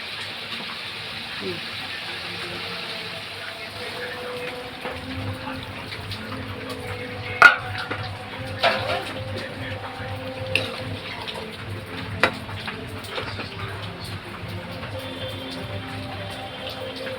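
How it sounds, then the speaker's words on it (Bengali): Bottle gourd and potato curry spiced with chili, salt and turmeric is stirred in a pan and then water is poured in, giving a steady wash of liquid noise with a few sharp utensil knocks and faint voice in the background. "এখন একটু লাড়াচাড়া দিয়ে আমি দেবো জল ঢেলে"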